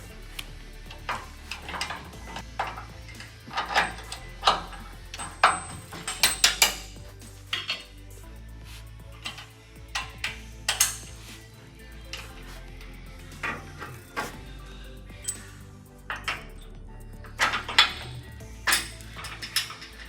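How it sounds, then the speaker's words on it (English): Bolting a leaf spring onto the frame of a two-wheel-drive 1979 Chevy C10 pickup: scattered metallic clinks, clanks and tool rattles, close and sharp, spaced irregularly with quiet gaps and no talking. "We're going to bolt this side in, starting with the front."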